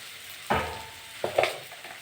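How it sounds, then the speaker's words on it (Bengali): Spices fry in a pan for a potato and pointed gourd dish under a soft background sizzle, with two close scraping stirs of a spatula. "নেড়ে চেড়ে ভেজে নেব।"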